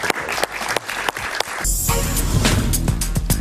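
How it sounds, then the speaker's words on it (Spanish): Studio audience applause on a Venezuelan political talk show, starting as scattered sharp claps and swelling midway into a fuller, louder burst of clapping, with a brief musical sting. "Un aplauso para Paciano."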